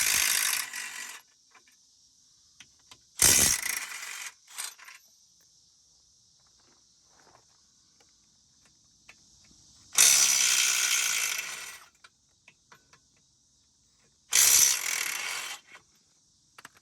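A ratchet wrench loosening 13 mm bolts on the crash-damaged front end of an Audi A4 B8 Quattro, heard as four separate bursts of rapid clicking, close and fairly loud, with quiet pauses between them.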